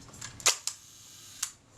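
Shutter of an Agfaflex SLR camera being cocked and released: a sharp mechanical click, a second smaller snap, then another click a moment later, close and crisp against near silence.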